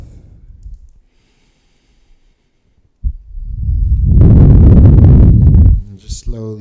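Deep, slow breathing during a yoga session, with soft low breaths early on, a pause, then a long, loud, rushing exhale lasting a few seconds before quieter breaths return.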